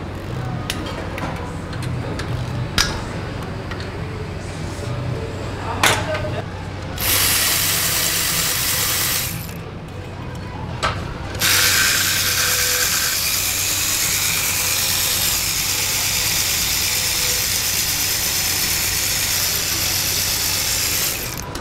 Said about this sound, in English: I like to take all of the case bolts loose.